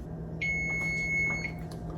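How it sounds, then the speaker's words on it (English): A kitchen timer beeps in a single sustained electronic tone lasting about a second, clear over a quiet room hum while Greek manoúri cheese is made from raw milk. "Timer is up."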